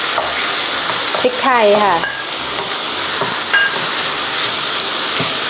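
Spring onions and pepper stir-fried with a filling in a hot pan for Vietnamese-style steamed rice-skin dumplings, giving a steady close sizzle with scraping stirs, while someone speaks briefly.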